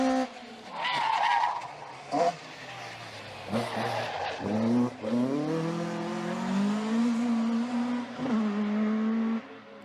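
A little Peugeot 106 climbs the Prescott hill climb course, its engine note rising and falling through gear changes with brief tyre squeal, loud and close throughout.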